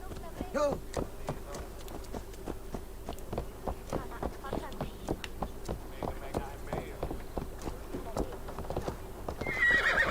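Galloping horse in an Assassin's Creed Valhalla game scene: steady rapid clip-clop hoofbeats run throughout at close range, with a neigh near the start and a brief louder burst at the end, under faint game ambience.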